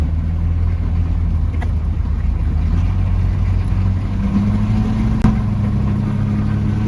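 A car engine drones steadily and close from inside the vehicle, a mid-pitched hum that rises slightly in pitch partway through, with one sharp click near the end.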